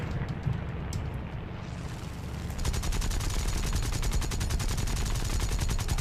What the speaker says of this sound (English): That was just a waste of cannons is what that was.